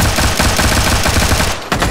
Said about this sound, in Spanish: ¿Quién, quién me está pegando tiros?